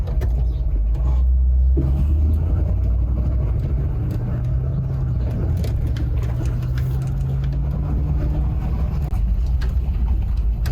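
A Range Rover climbs a steep ramp, its engine droning loud and continuous from close by with a strained low hum throughout and no talk.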